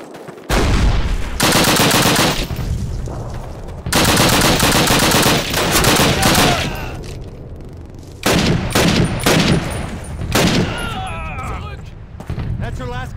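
Loud machine-gun and rifle fire in Call of Duty (2003) at Brecourt Manor, France, coming in several long automatic bursts separated by short pauses, with sharper single shots near the end.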